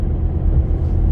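A 2017 Ford Fiesta on the move, heard as a loud, steady low road rumble from inside the car with no voices.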